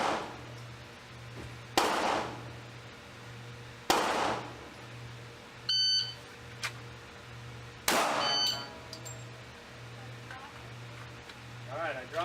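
Pistol shots fired during a timed shooting drill at a range, four sharp loud reports spaced a few seconds apart, each followed by a brief ring of steel, with a shot timer beep and someone talking between shots.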